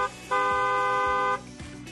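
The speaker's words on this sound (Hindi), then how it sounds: "सावधानी वाला हॉर्न बजाना जरूरी है।" A single car horn blast, a steady, bright honk held for about a second and cut off abruptly, with dull low thumps of road noise before and after.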